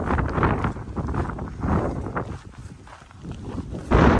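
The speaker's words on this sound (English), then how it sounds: "This wind is terrible." Strong, cold wind buffets the microphone during a freezing hike near Idyllwild, a steady rough roar with surging gusts and a sharp louder blast near the end, with no voices.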